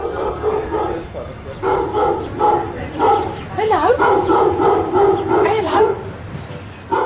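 A dog barks in a rapid string of loud, close barks with short pauses, mixed with a few yips, while a voice talks over it.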